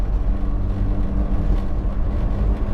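A 1980 Mazda RX-7 engine revs hard above 4,000 RPM, giving a loud, steady, close-up drone with a rich low rumble that holds for the whole stretch, with no voices.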